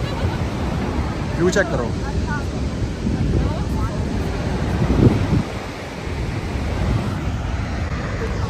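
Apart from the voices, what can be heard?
waterfall rushing water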